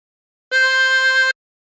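A short blown harmonica note on hole 7 lasts under a second, clear and steady, then cuts off cleanly into silence.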